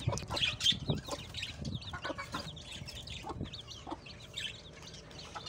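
Hens and young chicks clucking and cheeping in a farmyard, several birds close by with busy overlapping calls and steady soft clucks throughout.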